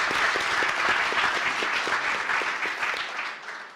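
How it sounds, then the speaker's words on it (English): An audience at a live podcast taping gives dense, sustained applause that stays strong for several seconds and fades slightly at the end. "So let's get a round of applause for Ryan."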